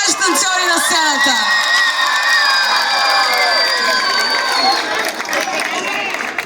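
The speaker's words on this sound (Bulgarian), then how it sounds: "Още един път силни аплодисменти за нашите танцори на сцената!" A loud outdoor crowd at a family festival concert on a town square in Pleven, Bulgaria, cheers and whoops for dancers, with high children's shouts and scattered clapping blending into a dense, sustained roar.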